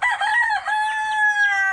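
A rooster crows once, a loud, close, drawn-out cock-a-doodle-doo with a rising start and a long falling tail, heard on its own.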